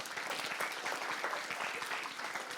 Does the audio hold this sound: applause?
yes